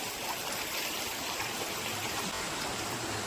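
A small seasonal stream in the Konkan countryside flows and burbles continuously nearby, a steady rushing wash of water with no voices.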